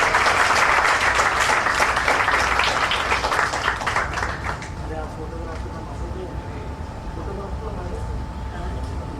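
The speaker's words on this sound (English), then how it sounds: "So give him a big round of applause." Audience applause at an innovation award ceremony, a dense, loud burst of clapping over the first half that fades into quieter room noise with a steady tone and faint voices.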